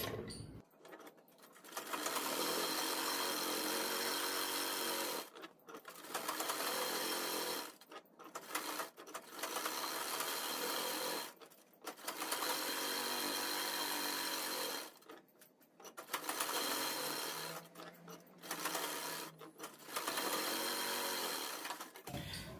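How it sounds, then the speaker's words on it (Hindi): A sewing machine stitches around the edges of a fabric lining for an Indian party dress, running in steady bursts of several seconds separated by short pauses, close and continuous, with no talking. "तो चिपकाने के लिए हम अपने अस्तर के चारों तरफ यहाँ पर सिलाई लगाएंगे।"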